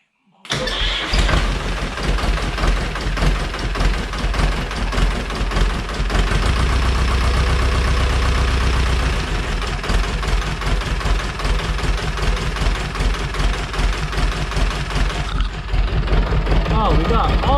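A diesel engine on a hydraulic log splitter with two cylinders cranks, starts and settles into a steady loud idle, a continuous close rumble with someone talking over it.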